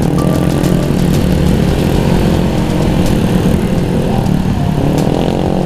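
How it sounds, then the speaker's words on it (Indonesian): A loud, continuous roar of engines at a motorcycle gathering, dense and steady throughout, like many motorcycle exhausts running together nearby. "Suara knalpot banyak banget."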